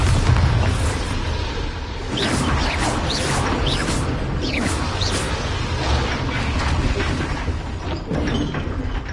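A Bombarda explosion spell goes off in a Harry Potter video game, a dense, rumbling burst layered with crashing debris and scattered sharp cracks that continue across the stretch.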